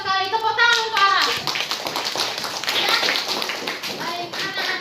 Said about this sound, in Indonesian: Tepuk tangan untuk Aras.